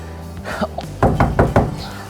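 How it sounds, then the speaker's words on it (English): Knuckles rapping on the rotocast plastic storage compartment under a Winnebago Navion motorhome: a few soft taps, then four firm, hollow knocks in an even rhythm, close and fairly loud. "So I'm knocking on that."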